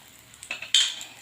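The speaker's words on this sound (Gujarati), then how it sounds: "મસ્ત મજાના શેકવાના છે આપણે વચ્ચે વચ્ચે આવી રીતના હલાવતું લેવાનું" Bread pizza slices turned in oil on a flat iron tawa, a few sharp metallic scrapes and clinks of a spatula against the pan, close and brief, with a soft background of frying and no speech.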